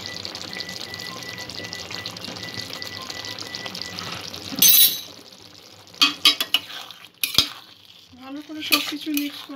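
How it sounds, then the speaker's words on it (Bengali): Chicken bhorta being stirred and mixed in a pan with capsicum and cream, the spoon scraping and clinking against the metal over a steady soft sizzle, with several sharper clatters toward the end. "সব কিছু মিক্স করে নেব।"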